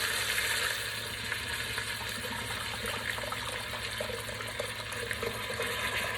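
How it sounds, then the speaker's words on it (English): A beef roast sears on the sauté setting of an Instant Pot, giving a steady, close sizzle and crackle that holds at an even level for the whole stretch with no talking. "I have flipped the roast over, and I'm allowing it to sear for about 2 to 3 minutes"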